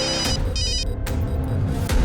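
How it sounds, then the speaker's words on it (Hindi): A mobile phone rings indoors in a domestic scene, a repeating electronic ringtone in short bursts, moderately loud against a low background hum. "अगं मोबाईलची रिंग वाजते, बघ जा कोणाचा फोन आहे बघ"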